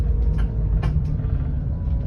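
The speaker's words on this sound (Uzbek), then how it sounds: "Tor yo'llarda 12 metrli avtobusni minasizlar." A 12-metre bus drives along narrow hilly roads, its engine giving a loud, close, continuous low rumble with a few brief hissing bursts.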